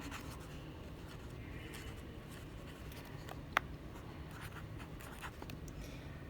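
Pen or pencil writing by hand in a table, a faint continuous scratching and rubbing with one small tap partway through, close and quiet with no voices.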